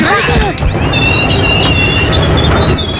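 A train grinds to an emergency halt after the chain is pulled, its wheels squealing in long, loud metallic screeches over heavy rolling rumble and clatter, close and continuous throughout.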